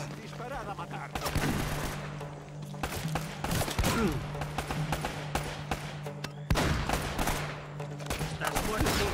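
Dense gunfire in Uncharted: Drake's Fortune, rapid bursts of automatic shots and sharp cracks layered over a steady hum, loud and nearly continuous, with voices occasionally underneath.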